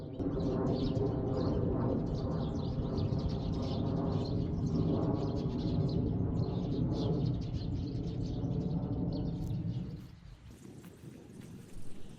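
Birds sing and chirp densely outdoors on a rural land plot in Aewol, Jeju, a loud continuous chorus of overlapping calls that thins out toward the end, leaving quieter open-air ambience.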